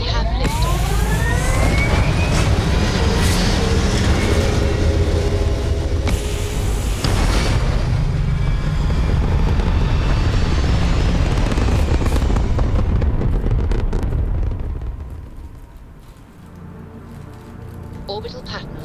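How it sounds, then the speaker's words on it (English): A spaceship lifts off in the video game Starfield with a loud, sustained roaring rumble and rising whine that fades after about fifteen seconds, while voices talk over it. "We have liftoff."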